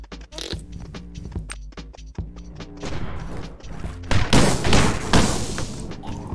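Explosions in the video game Stick It to the Stickman, a quick series of sharp bangs and thumps that builds into a denser, louder burst of blasts over a rhythmic game music bed.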